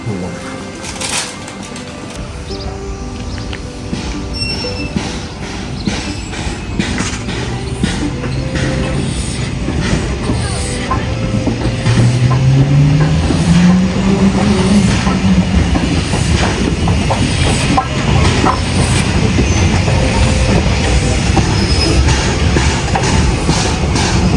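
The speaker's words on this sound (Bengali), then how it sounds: "ঝিকঝিক করে আরেকটা ট্রেন চলে এসেছে" A steam train on the Isle of Wight Steam Railway at Havenstreet Station rumbles and clatters steadily closer, its noise building over time, with a brief squealing tone partway through and faint voices in the background.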